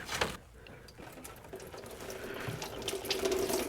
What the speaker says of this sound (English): So we can pop that hose off and drain our inverter cooler.